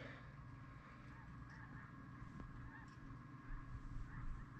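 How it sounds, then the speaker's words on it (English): A flock of snow geese honks while flying over in the early morning, their calls faint and distant above a steady low background rumble, with no talk. "There's a bunch of snow geese flying over."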